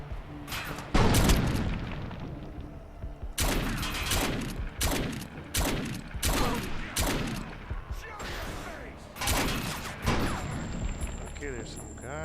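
Repeated gunfire bursts and heavy booms crack through a shooter game firefight in Defiance, several loud volleys spread across the scene with clutter between them and speech mixed in.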